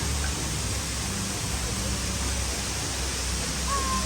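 A waterfall near a hillside cafe in Chiang Rai gives a steady, even rush of falling water, a constant broadband wash at moderate distance with no other clear sounds.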